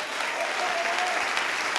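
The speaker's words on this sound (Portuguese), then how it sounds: "vamos aplaudir, igreja" A church congregation applauding during a sermon, a dense, steady wash of clapping from many people, loud and close, lasting a couple of seconds.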